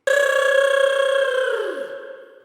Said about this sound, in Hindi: पीटर को फोन करो और पता करो बिल्लू सही सलामत पहुंच गया ना